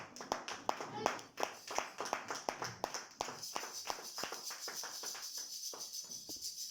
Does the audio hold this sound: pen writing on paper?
no